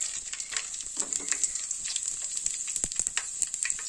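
Fenugreek seeds and cumin fry in hot oil for a village-style fish curry, giving a continuous close sizzle with crackling pops and occasional stirring scrapes against the pan.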